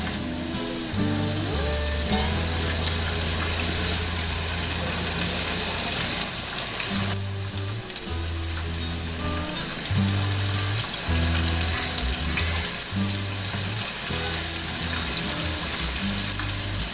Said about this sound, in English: You want everything to fry up individually.